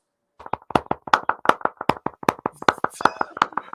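Sharp hand claps ring out close by in a quick, uneven series of about twenty distinct slaps, each one crisp and separate with a short roomy tail, after a moment of silence at the start.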